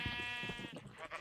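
A Minecraft sheep in the Feed The Beast modpack gives one wavering bleat lasting about a second, clear and fairly close.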